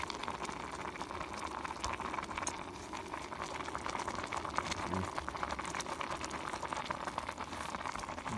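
Noodles boil in a pot on an outdoor camp stove on Anglezarke Moors, giving a steady bubbling hiss throughout at moderate close range, with no talking.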